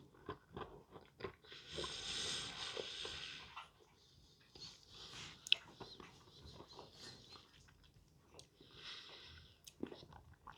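Crunching up an antacid tablet by chewing it: a burst of dry, gritty crackling around two to three seconds, then scattered softer bites and crunches, fairly close and moderately loud, with no talking.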